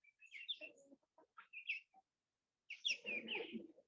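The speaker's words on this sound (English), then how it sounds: "the chicken's not picking at your feet" A chicken gives a series of chirps and clucks in short bursts, close and clear, with a louder cluster of calls near the end against otherwise silent surroundings.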